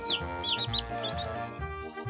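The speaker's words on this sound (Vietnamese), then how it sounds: "Bé gà của mình đây." A pet chicken clucks in quick, bright bursts over a prominent musical background, the calls fading out near the end.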